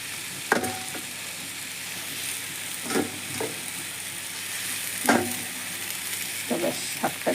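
Malabar spinach (pui shaak) goes into a hot pan and fries with a steady crackling sizzle, broken by several sharp scraping stirs of the spatula at irregular intervals.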